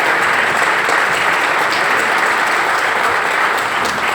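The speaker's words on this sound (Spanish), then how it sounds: "por favor, aplauso fuerte" Loud, dense audience applause fills a hall as a speaker is welcomed on stage, steady clapping from many hands throughout without a break.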